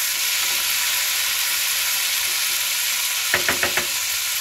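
Onion and tomato fry in a pan with a constant loud sizzle. Toward the end, a spoon scrapes and knocks against the pan in a quick burst of four strokes.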